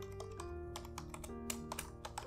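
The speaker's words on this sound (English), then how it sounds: "And now you can type" Steady typing on a computer keyboard while entering a header in Microsoft Word, with quick, irregular close key clicks running throughout without a break.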